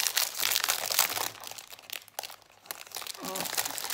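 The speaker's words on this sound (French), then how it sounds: "Et je vais ouvrir le paquet." A plastic package is torn open and crinkled up close, bursts of sharp crackling and rustling with a brief quieter pause before more handling resumes.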